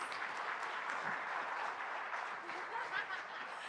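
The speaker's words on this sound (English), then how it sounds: "she didn't want applause, but I wanted to give her one" Congregation at a Unity church service applauding a woman, soft distant wash of many hands clapping, steady and fairly faint throughout with a few murmurs and light laughter.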